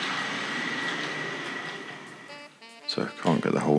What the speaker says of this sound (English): It makes a lovely sound, this model.